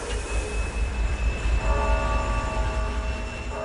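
A train rolls steadily along the rails in Siberia with a continuous low rumble, a faint high tonal squeal running over it throughout.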